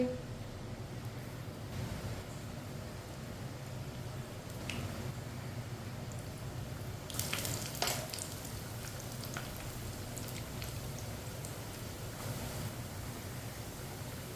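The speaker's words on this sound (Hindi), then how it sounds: "आप देख सकते हैं ऑयल हमारा गर्म हो चुका है। अब एक एक टिक्की डाल लेंगे।" Sweet tikki dough fries in hot oil, a soft, steady sizzling hiss with scattered louder crackles and pops, heard alone and fairly quiet.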